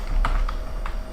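Three or four quick, soft keystrokes tap on a computer keyboard close by against a low background hum, with no voice.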